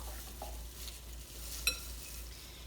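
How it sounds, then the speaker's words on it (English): Mixing shredded mozzarella into a filling for a summer garden pie, soft scraping and stirring at a low level with one brief clink, no talk. "Give that a good mix, and then we're going to set that aside."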